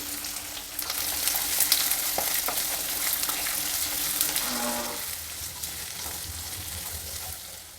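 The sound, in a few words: onions and green chillies frying in a pan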